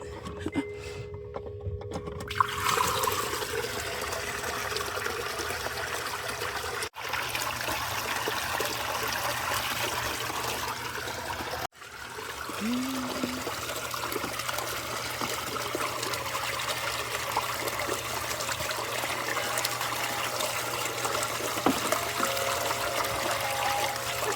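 Water trickles steadily from a small plugged-in fountain in a container mini pond garden, a continuous close splashing that runs throughout with two brief dropouts.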